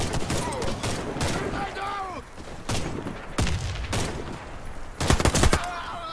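Video game gunfire cracks out in sharp separate shots and short bursts, close and loud, spaced irregularly over a few seconds, with a voice talking faintly in the background.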